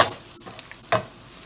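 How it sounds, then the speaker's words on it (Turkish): Onions fry in a pan as they are browned for a dried pepper and yogurt dish, giving a soft steady sizzle with a brief stirring scrape near the end. "Soğanlarım zaten iyice kavruldu."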